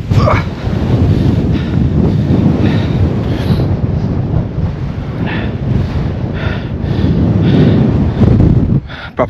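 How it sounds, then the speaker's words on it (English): Strong winter wind roars steadily across the microphone on a rocky Peak District hilltop, a loud continuous low buffeting rumble with no letup. "proper windy up here now."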